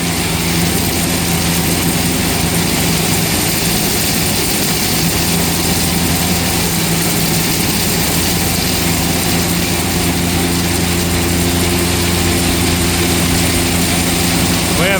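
McCormick 165 tractor, turned up to about 185 horsepower, drives a large silo blower during corn and earlage silo filling, a loud continuous engine and blower roar holding steady throughout, with someone talking over it.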